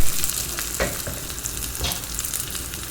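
Small onions sauté in hot tempering oil for Thanjavur kathamba sambar, a close, continuous crackling fry broken by a couple of brief stirring scrapes.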